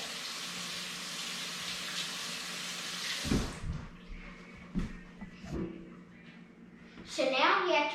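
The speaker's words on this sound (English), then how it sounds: "now what I have to do is just wash my hands." Running tap water splashes steadily for a few seconds as hands are washed in hot water, then stops; faint voices and clatter follow, with a brief burst of speech at the end.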